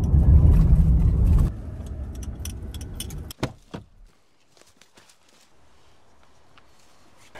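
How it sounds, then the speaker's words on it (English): A truck on a road near a rural camping and turkey-hunting spot roars loudly and close at first, then fades away. A few sharp clunks and knocks follow before near quiet. "Here's another truck."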